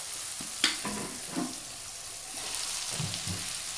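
Tomatoes sautéing in a pan with capsicum being added, a continuous soft sizzle with a few brief stirring scrapes, close and steady, with no voices.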